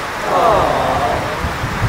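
Steady heavy rain pouring down outdoors during bad weather, a dense, loud, continuous hiss with no breaks.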